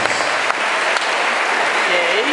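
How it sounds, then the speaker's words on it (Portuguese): Dense, loud applause from an audience at a graduation ceremony, sustained and even throughout with no pause. "Uma salva de palmas a vocês,"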